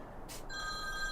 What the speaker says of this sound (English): Sorry about the phone call there.